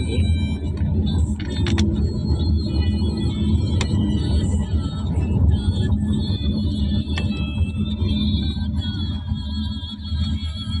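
A car cruises along a highway toward San Fernando City in the Philippines, its steady road rumble and engine drone continuous and close throughout, with no speech.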